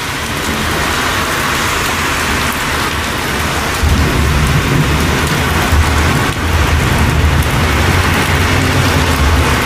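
A severe summer thunderstorm in Westbury pours heavy rain in a dense, loud hiss while deep thunder rumbles roll in and linger, with a faint car passing underneath and no voices.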